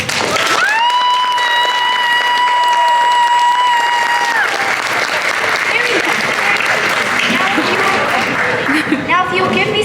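An audience at a school musical breaks into loud, sustained applause with cheering and crowd noise, filling the hall for the whole stretch, with a brief high held vocal tone near the start.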